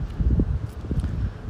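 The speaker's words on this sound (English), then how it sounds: "it's a little windy today." Gusty wind buffets the microphone with low rumbling bursts, close and uneven, with a faint rustle and no talking.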